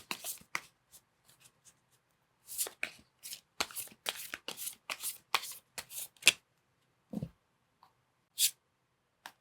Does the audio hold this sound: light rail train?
no